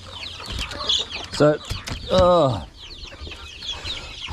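Farm chickens, including older hens, cluck and call repeatedly at close range, with a few louder squawking bursts standing out among steady background bird chatter and a brief spoken word.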